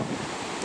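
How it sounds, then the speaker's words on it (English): Strong wind rushing and buffeting against the microphone, a continuous roar with no other sounds. "It's very windy today."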